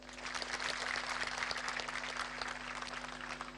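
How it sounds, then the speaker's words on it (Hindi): A large audience at an outdoor gathering in Patalganga, Maharashtra claps together in a dense, sustained burst of applause over a steady low hum, loud and unbroken throughout. "उनके लिए एक बार ताली बजाओ।"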